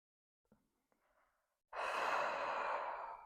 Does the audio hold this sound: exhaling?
yes